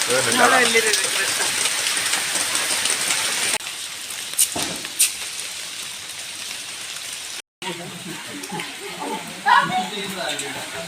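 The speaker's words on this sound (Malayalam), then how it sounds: "മഴയാണ് ഒരു ഇങ്ങനെ പെയ്യും തോരുന്നില്ല" Rain falls steadily at a resort in Wayanad in a dense, continuous hiss, with a few louder knocks and a brief break partway through.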